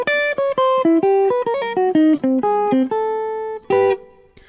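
Jazz guitar playing a quick bebop lick, a run of clean single notes in a brisk, uneven rhythm ending on a two-note dyad, close and alone.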